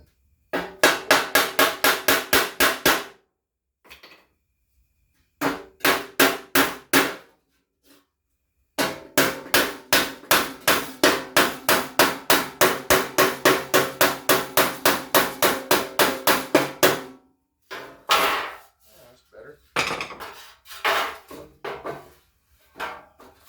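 A big hammer straightening dents in the rear roll pan of a squarebody Chevy truck: loud, close bursts of rapid metallic blows in steady runs, separated by short pauses.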